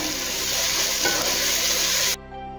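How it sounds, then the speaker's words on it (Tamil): Onions sautéing in a pan for mushroom biryani: a steady, loud broadband sizzle with stirring scrapes for about two seconds, then it cuts off abruptly to quiet. "நல்லா வந்து பச்சை வாசனை போற அளவுக்கு வந்து இதை வதக்கிக்கலாம்."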